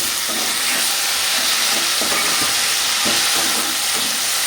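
Chopped tomatoes and onions sauté in a pan, giving a steady, close hiss and sizzle with a few soft stirring scrapes, no voices.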